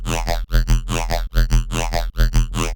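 Riddim bass synth patch built in Serum and run through two downward-only OTT compressors, a loud, dense, growling wobble pulsing in repeated bursts with brief gaps between, alone without talk.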